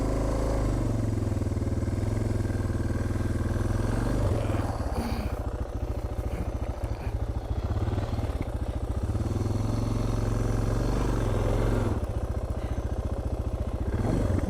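A Suzuki DR650 motorcycle rides through mud with its back tire digging into a rut: a steady, loud single-cylinder engine drone that swells as the rear wheel spins and churns, with some clatter and no talk.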